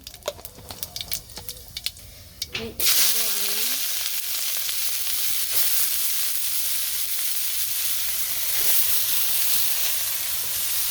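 Spices hit hot oil for a tempering, and after a few seconds of clatter a loud, bright sizzle erupts and then holds as a steady, close hiss for the rest of the clip.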